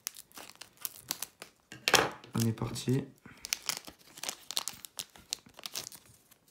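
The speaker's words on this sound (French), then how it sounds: "J'ai pensé à prendre des ciseaux pour ouvrir les boosters." Japanese Pokémon booster pack wrappers being torn open, with close crinkling and ripping foil in bursts while someone talks throughout.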